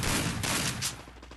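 Rapid burst of automatic gunfire from a P40 in a competitive shooting video game, loud dense volleys filling the first second then thinning into scattered faint shots, no talk.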